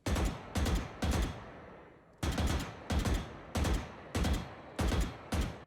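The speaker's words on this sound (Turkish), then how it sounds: "Atış sesi de böyle" Gaia Vandal rifle shots from the Valorant video game fire in crisp, loud, close bursts: three quick shots, a short pause, then six more at an even rhythm, each with a punchy crack and short tail.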